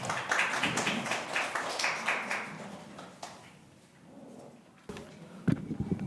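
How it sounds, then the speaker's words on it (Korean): Audience at a Korean international labour policy forum claps, a dense burst of applause that swells and then thins out into scattered claps before fading. "박수를 청해 주십시오"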